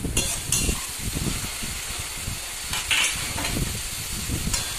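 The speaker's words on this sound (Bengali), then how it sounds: "এবার ভালো করে নেড়ে নেব, খুব ভালো করে কষিয়ে নেব।" Masala with whole green chilies stirred and fried in a pan for a Bengali home dish, a steady close sizzle and hiss with occasional scraping stirs and faint clinks, no talking.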